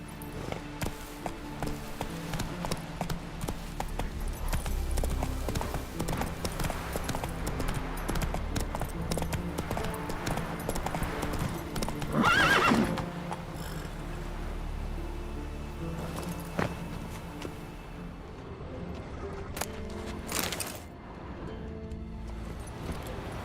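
Horse hooves clip-clop steadily at a running pace in The Witcher III video game, a continuous close galloping rhythm with a brief louder burst midway and no clear neigh.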